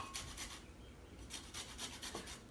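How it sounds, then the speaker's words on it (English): Limes grated on a handheld zester, a faint, close rasping scrape repeated in quick strokes with a short pause midway, heard alone with no talk. "The first thing I like to do is zest my limes. I'm going to zest it a little bit."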